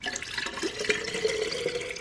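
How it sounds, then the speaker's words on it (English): Water pours into a Hydro Flask bottle holding a few ice cubes, a steady, fairly soft splashing and gurgling flow heard close up with no talk. "I just put a few ice cubes in my hydro flask. Now I put in my water."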